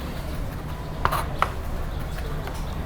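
A sharp knife presses and crushes garlic on a chopping board, giving two brief, close knocks against low background hum.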